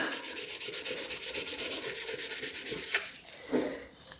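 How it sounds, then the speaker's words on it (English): Close, rhythmic hand sanding of a fountain pen blank spinning on a wood lathe gives even rasping strokes that slow and break up near the end. "we can actually sand it by hand while turning it in the opposite direction"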